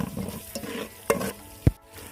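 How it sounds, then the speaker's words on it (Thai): Crushed garlic and shallots stir-fried in vegetable oil for Indian-style chicken biryani, a soft crackling sizzle broken by a few sharp scrapes of a utensil against the pan, close and clear with no talking. "แล้วก็เติมน้ำมันพืชลงไปหน่อย แล้วก็มาผัดใส่ กระเทียมที่โขลกกับ หอมแดงนะครับ"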